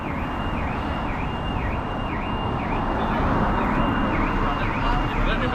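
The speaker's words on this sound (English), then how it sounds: "flipping car alarms like that one" A car alarm wails on a town street, its rising and falling tone repeating steadily over continuous traffic rumble and street noise.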